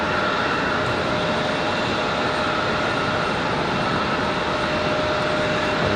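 Alaska Airlines jet aircraft on the runway at RDU airport in Raleigh-Durham, a steady broad engine roar that holds evenly for the whole stretch, fairly close and loud, with no voices.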